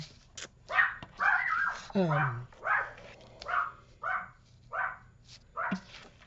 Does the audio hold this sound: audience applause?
no